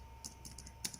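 A search query typed on a computer keyboard: a short burst of five or six crisp, close key clicks at an uneven pace, with no voices.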